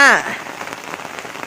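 Rain falls steadily on a cold first rainy day at Nong Pla, a close, even patter on a surface. It follows a short falling electronic tone at the very start.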